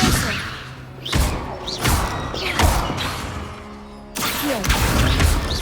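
Levioso levitation spell from a Harry Potter video game, cast several times: loud magical whooshing swells with creaks, mechanical clatter and heavy thuds in separate bursts, one after another.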